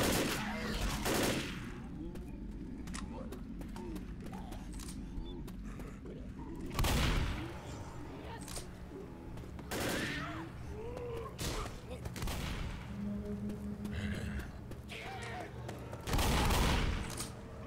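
Gunfire in the video game Left 4 Dead: bursts of rapid shots and single loud cracks recur throughout, mixed with game noise and voices talking.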